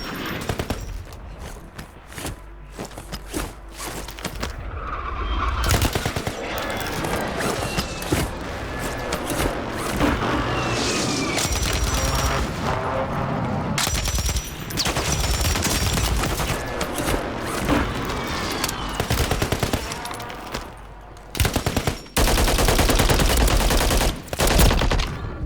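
Rapid bursts of automatic gunfire and single shots from the video game Warzone 3, loud and dense throughout with brief gaps, layered with in-game effects and no clear talk.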